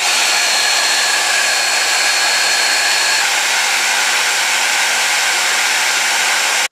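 A hair dryer pre-dries a blonde wig, blowing as a loud, steady, even whoosh close up for the whole stretch, with no voices.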